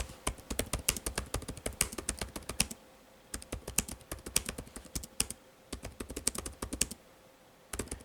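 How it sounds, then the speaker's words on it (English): Rapid typing on the Acer Spin 1 laptop keyboard, a dense run of close, crisp key clicks with short pauses between bursts, heard alone without speech. "You can type pretty quickly on this keyboard."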